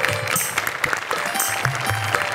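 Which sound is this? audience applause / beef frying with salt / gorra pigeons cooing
audience applause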